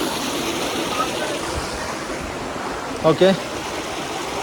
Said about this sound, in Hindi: ये देखो पानी बहता हुआ साथ साथ